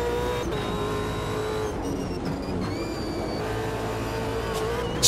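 Naturally aspirated V8 race car engine of roughly 700-800 horsepower in Automobilista 2, droning loud and steady at high revs with shifting pitch, a short squeal near the end.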